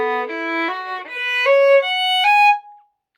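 Bowed string instrument, likely violin, playing a short first-to-second finger pattern: a rising sequence of clear sustained notes, close and solo, ending in a held tone.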